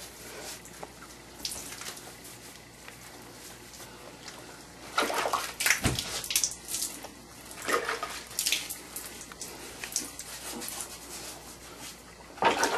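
Water runs from a tap into a bathtub while a pet is bathed, a steady rushing flow broken by louder splashing and gushing bursts toward the middle and end.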